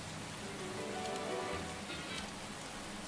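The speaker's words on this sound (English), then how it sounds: "that rain is loud" Heavy rain pours down in a steady, dense hiss of drops striking a surface, loud and unbroken, with no voices over it.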